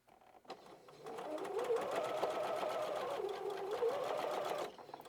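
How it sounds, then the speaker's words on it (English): A sewing machine stitches a quarter-inch seam along the side of a fabric basket made from 10-inch squares, a steady close whirring hum for about four seconds with a brief start and stop at either end. "I'm just going to sew a 1/4 inch seam right down the left side and right down the right side"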